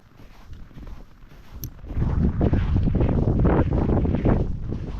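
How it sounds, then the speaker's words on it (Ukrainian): Strong wind on a fishing outing buffets the microphone with a roaring, gusty rush that swells after a quieter start and stays loud. "Такий кругом вітер, що це просто торба"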